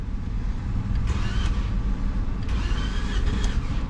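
A flood-damaged Toyota Camry with the A25A-FKS engine, a Dubai taxi, cranks and catches, then settles into a steady close idle with a couple of brief surges. Engine noise fills the whole stretch.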